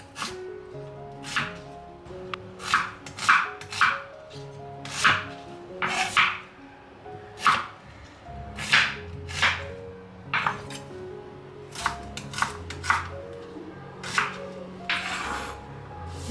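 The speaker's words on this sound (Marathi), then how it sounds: "आज तर सर्वात पहिले मी कांदा रफली चॉप करून घेते" A knife chops onion roughly on a board for pav bhaji, giving a steady run of sharp, distinct thuds with brief pauses, close and fairly quiet, with no talk.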